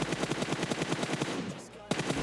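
Rapid automatic gunfire rattles in a shooter video game, a steady burst of closely spaced loud shots that briefly thins out before resuming, with no voices over it.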